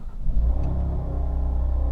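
A car engine turning over and catching inside a garage at morning start-up, a loud, close, deep rumbling idle that settles into a steady throb.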